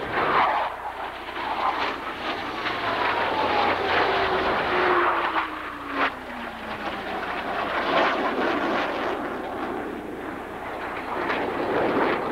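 Four aircraft at the 1991 Dayton Air Show converge on a center point at maximum speed. A loud, continuous engine roar rises and falls with sweeping passes and fills the whole stretch.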